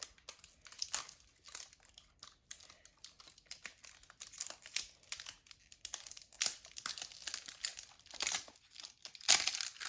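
Crinkly plastic packaging is torn and crumpled up close in irregular bursts, with rustling and crackling over the whole stretch.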